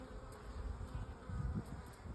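Honey bees humming steadily around an established hive, a low continuous drone that swells slightly in places, fairly faint and close with no voices over it.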